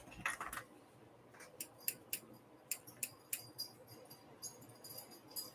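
Scissors snipping through paper for a sewing journal, a sequence of crisp, close cuts spaced unevenly over a faint background, no one talking.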